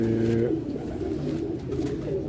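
A pigeon coos softly in low, throaty phrases that repeat across a quiet, steady background, heard fairly near but at low volume.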